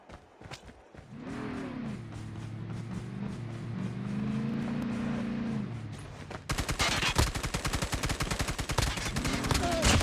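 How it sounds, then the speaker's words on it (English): Custom M4 LMG fired in a video game, a rapid burst of dense automatic shots near the end following a stretch of engine drone, loud and close, with a voice talking over it. "I'm gonna try this guy's custom M4LMG."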